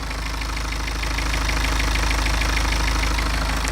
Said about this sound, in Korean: 일단 바로 엔진 소리 한번 들려드릴게요